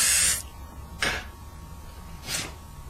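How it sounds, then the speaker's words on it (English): An aerosol spray can hisses onto an aluminum sheet in three short bursts, the first longest, each sharp and close with quiet gaps between. "I like to spray it so it keeps still."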